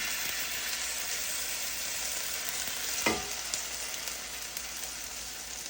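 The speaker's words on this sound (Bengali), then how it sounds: "তারপর আমি একটু আদা রসুন দিয়ে দেব" Ginger and garlic frying in oil in a pot for pulao, a steady close sizzle throughout with one brief stir or clink partway through.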